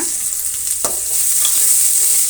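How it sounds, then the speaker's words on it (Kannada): Chopped dried red chillies and curry leaves frying in hot oil give a loud, continuous close sizzle with faint stirring, and no voices. "ಒಣಮೆಣಸಿನ್ಕಾಯಿ ಕಟ್ ಮಾಡಿರೋದನ್ನು ಹಾಕ್ತಾಯಿದ್ದೀನಿ ಇಷ್ಟು ನಾವು ಫ್ರೈ ಮಾಡೋಣ ಮೊದಲು ಇದರ ಜೊತೆಗೆ ಸ್ವಲ್ಪ ಕರಿಬೇವಿನ ಸೊಪ್ಪನ್ನು ಕೂಡ ಸೇರಿಸ್ತಾ ಇದ್ದೀನಿ"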